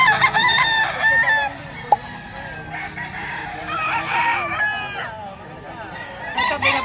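Roosters and chickens at a Filipino poultry market crow and cluck repeatedly at close to mid range, with several overlapping calls. People talk nearby.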